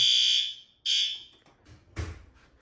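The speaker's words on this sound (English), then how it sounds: "The water flow has tripped the module, and we are in full alarm" A building fire alarm set off by a sprinkler water-flow switch through a monitor module sounds in two loud, steady shrill blasts, followed by a brief low thump.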